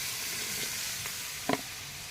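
Hot fried food in a wok hisses with a steady, low sizzle throughout, broken by one short, louder spitting burst near the end as water hits the hot pan.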